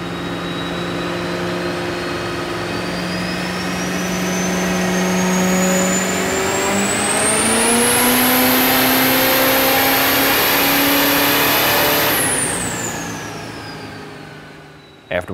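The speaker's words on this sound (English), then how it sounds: "bring the truck up to about 350 horsepower at 2600 RPM before we start the test" A Duramax diesel truck engine runs under load on a 4WD dyno, droning loudly and steadily as its pitch climbs with a rising turbo whine, holding near the top before winding down near the end.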